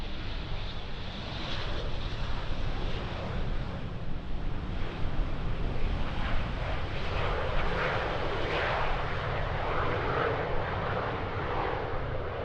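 A fixed-wing airliner lands in a storm crosswind on runway 18R at Schiphol, its engine roar a steady broad rumble mixed with heavy wind buffeting on the microphone throughout.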